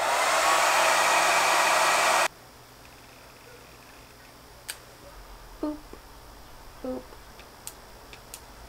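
A hair dryer blows with a loud, steady whoosh for about two seconds, then shuts off, leaving a few faint clicks and taps.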